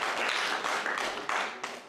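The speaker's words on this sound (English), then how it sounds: "So, round of applause for Haman dying. Everyone clap it up." A congregation at a Sunday morning gathering breaks into applause, a dense wash of many hands clapping steadily for about two seconds, fairly close and fading at the end.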